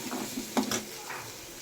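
Steady sizzling of sliced onion and curry leaves frying in hot oil, with a brief clink of a utensil stirring in the pan, close up and moderately loud.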